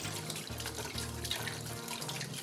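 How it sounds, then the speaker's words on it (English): Steady running cold tap water splashes continuously into a sink while naengmyeon noodles are rinsed, a close, even rushing sound with no talking. "rinse the noodles thoroughly with cold water"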